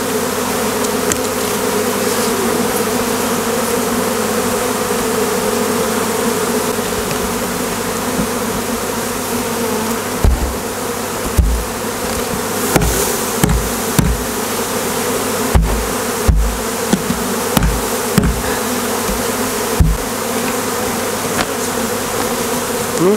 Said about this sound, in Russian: Пчелы с пыльцой.